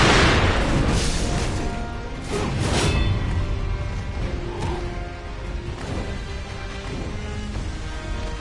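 Fireworks burst and boom through a video game arena fight, with repeated loud blasts, crackling pops and whooshes layered densely over a constant game soundtrack.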